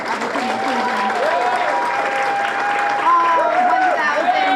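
Audience applause at a celebration for grant recipients and legacy businesses, a steady clapping wash running throughout while a voice speaks over it.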